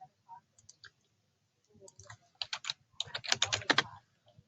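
Quick bursts of typing on a computer keyboard, scattered clicks at first, then a dense run of keystrokes, close and clear in a quiet room.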